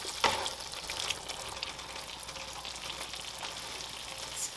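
Pork noodle bowl ingredients sizzle and fry in a pan, a steady crackling hiss with a brief clatter at the start, close and continuous without talk.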